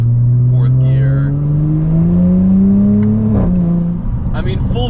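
An Audi S4 accelerates in 4th gear from around 2,300 RPM, its engine drone rising steadily in pitch, loud and close from inside the car, then dipping briefly as the pull eases.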